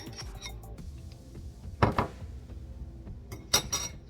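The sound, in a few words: mixing beaten eggs into cornbread dressing in a bowl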